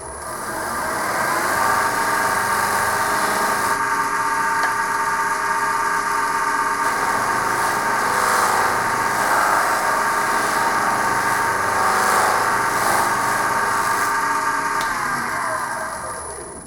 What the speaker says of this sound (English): We're going to turn it on and charge it, meaning I'm going to touch the wheel for a few seconds to put some Tripoli compound on it